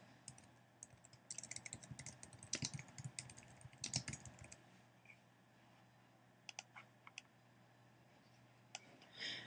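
Bursts of typing on a computer keyboard, quick clustered key clicks in the first half, then sparse isolated taps against a faint steady hum, with no talking.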